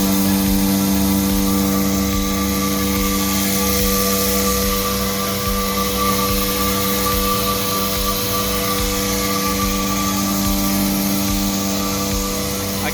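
Electric 220V grain crusher grinding wheat, a loud and steady droning roar with a constant motor hum that holds throughout without a break.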